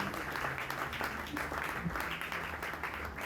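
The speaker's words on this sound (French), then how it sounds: "Nous pouvons applaudir en reconnaissance." A crowd applauding steadily for a few seconds, dense clapping that continues evenly before cutting off abruptly.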